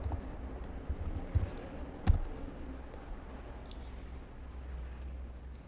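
Soft, quiet keyboard typing with a few scattered key clicks and one sharper tap, close by over a low background hum.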